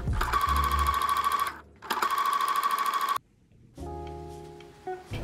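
A sewing machine stitches bias tape onto a neckline in two loud, steady runs with a short pause between them, followed by a lower, steadier mechanical whir.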